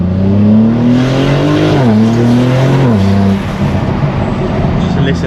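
A BMW G82 M4 fitted with an aftermarket Valvetronic exhaust, equal-length mid pipe and small muffler, revs hard and loud up through rising and dropping engine pitches while driving, with road and wind noise under it.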